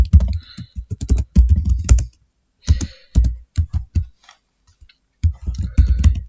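Bursts of computer keyboard typing as code is entered, clattering keystrokes in quick clusters separated by short pauses, close and fairly loud with no voice.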